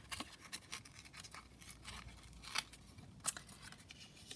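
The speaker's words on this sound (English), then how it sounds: "Now I quite like to sometimes just tear in to my tag like this" A paper craft tag is torn by hand in a few faint, short ripping bursts and scratchy rustles, quiet and close, with small gaps between the tears.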